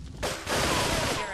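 Gunfire in Grand Theft Auto 3, a dense, loud burst of rapid shots and blasts filling the moment after a brief quieter start.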